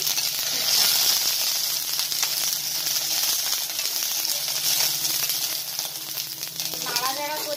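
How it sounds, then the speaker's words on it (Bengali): Mustard seeds and cumin sizzle steadily in hot oil for tempering, a bright continuous hiss with faint crackles and a light stir near the end. Some speech can be heard under it. "সরষে আর জিরে ফোড়ন দেবে"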